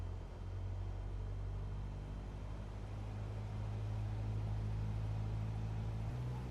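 A simulated Cessna 172 piston engine in MSFS 2024 holds a steady, loud, low droning hum during a run-up to 1800 RPM. The tone shifts slightly near the end, with no talk.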